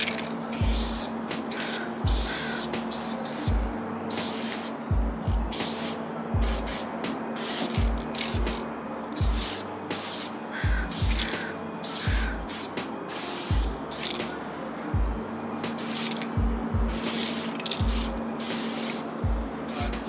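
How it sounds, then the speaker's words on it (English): Molotow Coversall water-based spray paint hisses from a can in repeated short bursts, close and steady, each spray separated by a brief pause, with a faint background hum underneath. "I already kind of sprayed in just a quick little outline of my letters here"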